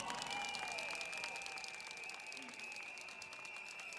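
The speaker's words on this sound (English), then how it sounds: "Can we give him a round of applause as well?" Faint, steady clapping from an audience at a People's Action Party political rally at Fern Green Primary School, heard at a distance with a continuous tonal hum beneath it.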